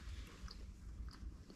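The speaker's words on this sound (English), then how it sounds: "are you ready to take a bite out of it?" A bite taken from a bar of cookies and cream chocolate, soft crunching and chewing close to the ear, quiet and without speech.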